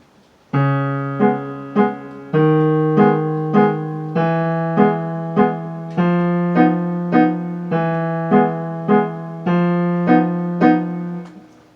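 Solo piano plays one line of Khachaturian's Waltz from Adventures of Ivan, a steady waltz pulse of struck notes with a sustained low bass and repeated chords, played alone, close and clear.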